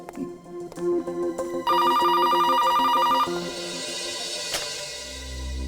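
A telephone rings with a bright electronic ringtone, loud and close, a steady repeating burst that cuts off and gives way to a lingering tone, with no voices.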